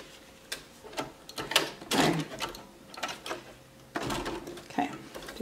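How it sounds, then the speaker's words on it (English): A sewing machine runs in short close bursts, stitching elastic onto a cloth diaper, with whirring runs separated by pauses and small clicks and handling noises. "Sewing a little forward and a little backward."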